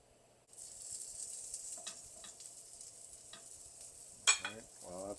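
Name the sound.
homemade cut bacon browning in a pan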